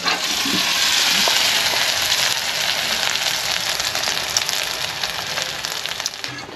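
Chicken frying in hot oil sizzles loudly and steadily up close, a dense continuous crackle with occasional sharper pops throughout.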